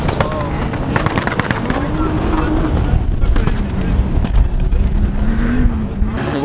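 A car climbs a desert sand dune at speed, its engine roaring loud and close with a rising and falling whine, while people talk and shout over it.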